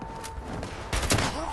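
Rifle gunfire in the video game Fallout 76, a couple of sharp shots in quick succession over game ambience.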